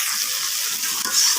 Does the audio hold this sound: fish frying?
yes